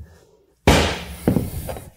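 A sharp, loud knock lands suddenly after near silence, followed by a few softer knocks and rattles, close by, as a vinyl floor plank is tapped into place.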